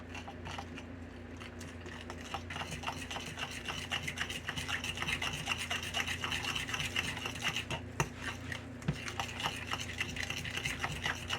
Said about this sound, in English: I'm going to let that melt real quick while I keep stirring this